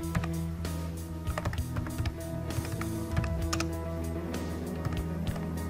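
Keys clatter on a computer keyboard in an irregular run of crisp, close clicks and taps while text is entered into a PowerPoint slide.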